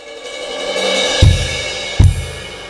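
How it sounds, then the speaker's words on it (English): Drum kit passage with a swelling cymbal roll that builds, then two firm bass drum hits each paired with a ride cymbal stroke, loud and close with no talking. "After that roll, you have a downbeat, measure 9, with a bass drum and a ride cymbal at the same time."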